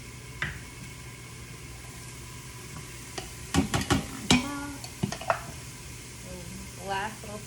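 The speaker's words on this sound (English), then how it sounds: "So I'm gonna let this sear for about 3 to 4 minutes" Cauliflower sears in a covered pan while a creamy cauliflower alfredo is being made, giving a soft, steady sizzle underneath. Several sharp clinks and scrapes of utensils and a lid cut in near the middle and again at the end.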